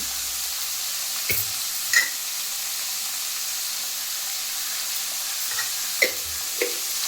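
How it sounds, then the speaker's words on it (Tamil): Cut vegetables with turmeric get stirred in a pan over a soft, steady hiss of frying, with a few scattered clinks and scrapes of the spoon against the pan. "இது எல்லாமே நல்லா கிளறி விட்டுக்கலாம்"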